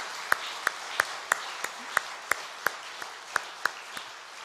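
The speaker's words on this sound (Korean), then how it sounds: "하나님께 영광의 박수를 한번 돌립시다" Sharp, evenly spaced single claps ring out about three per second, a rhythmic unison clapping by a church congregation at an early-morning prayer service.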